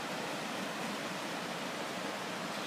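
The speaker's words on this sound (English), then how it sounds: "And just about to see the waterfall there." The Pistyll Rhaeadr waterfall in North Wales roars as a steady, dense rush of falling water, loud and unbroken throughout, with no voices.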